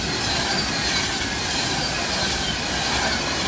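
Train speeding straight through the main line at Stafford station, a loud continuous roar of wheels with clickety-clack and squealing rail noise throughout.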